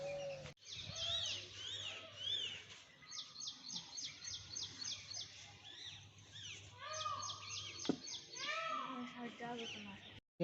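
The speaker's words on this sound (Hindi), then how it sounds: "ये आप सुन रहे होंगे कि कोयल की कैसी आवाज़ और चिड़ियों की कैसी आवाज़ आ रही थी यहाँ पे" Koels and other birds call in a green garden, with repeated chirping trills and whistled notes layered over a steady low hum, moderately close and continuing throughout.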